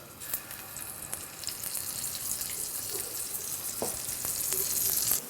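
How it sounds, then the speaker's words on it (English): An Omaha rib cut ribeye steak sizzles in a pan of butter with a little oil, a steady close hiss of frying that grows louder toward the end, with a few scattered pops. "I'm going to take the last steak and I'm going to start grilling that just strictly butter with a little bit of oil in the pan."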